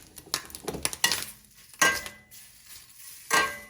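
Food sizzles in a pan while a utensil scrapes and clinks against the metal in irregular bursts.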